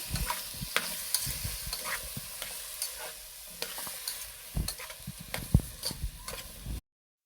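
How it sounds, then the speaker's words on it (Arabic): Carrots and lentils get stirred in a pan with ghee, a spoon scraping and clacking in irregular strokes over a low sizzle, with sharper knocks near the end and no talking. "هنا نضيف الجزر نضيف العدس، معلش نضيف العدس، نديها تقليبة حلوة."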